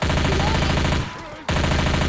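Rapid, continuous automatic gunfire from the default gun in Left 4 Dead 2, loud and close, with a brief pause in the middle before the burst resumes.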